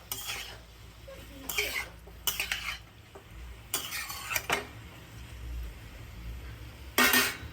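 Mushrooms with a little turmeric frying in a pan, bursts of spoon stirring and scraping against the pan between quieter stretches of faint sizzle.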